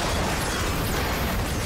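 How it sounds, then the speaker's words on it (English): Explosions in the Ratchet & Clank video game on Planet Batalia during a tank battle, a dense, loud burst of booming noise that fills the short stretch without a break. "Oh my god. Explosions."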